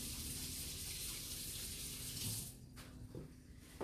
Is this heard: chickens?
no